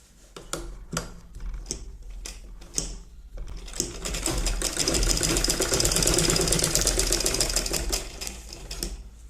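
A sewing machine stitches a seam on a baby's petticoat, starting with short stop-start bursts of rapid needle clatter, then running steadily and loudly at a fast even rhythm before easing off near the end.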